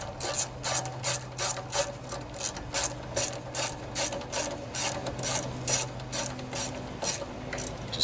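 A socket ratchet snugs bolts on a Briggs and Stratton opposed-twin engine fitted to a riding lawnmower. Quick bursts of clicking come in a steady back-and-forth rhythm, close and clear, with no talking.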